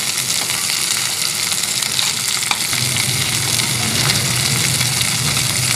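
Beef mini kababs frying in hot oil, a steady dense sizzle and crackle with faint bubbling throughout, close and continuous with no talk.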